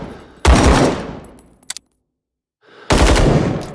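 Type 56 rifle firing in the game Rising Storm 2 on a practice range: two loud, sharp gunshot bursts with echoing decay, separated by a brief pair of metallic clicks and a silent gap.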